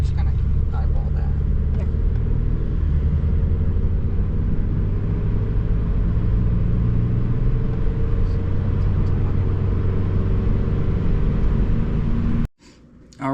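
A turbocharged 8th generation Honda Civic engine running on E85, a steady, loud, low droning rumble heard from inside the car for most of the stretch before cutting off abruptly near the end.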